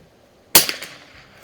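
A single sharp report from an 1896 Schmidt Rubin target rifle firing a .22 short round, close and loud, then a short fading ring of the shot.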